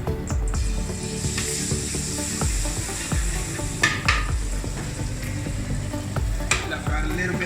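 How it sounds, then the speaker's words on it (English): Garlic and ginger paste frying in hot ghee, a steady close sizzle with occasional stirring scrapes and clinks of a utensil against the pan, no voices. "we're going to add some garlic and ginger paste"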